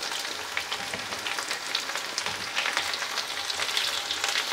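Potato and cauliflower pieces fry in a pan with a continuous crackling sizzle, popping in light irregular bursts close up, with no voices.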